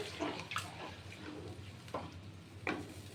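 Canned coconut milk pours into a pan of sauce for a Bengali bhetki paturi dish, a soft, quiet liquid splash and trickle with a few brief bursts over low background hum.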